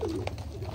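A blue-eyed female pigeon gives a short, soft coo close by, low and throaty, alone against a faint hum.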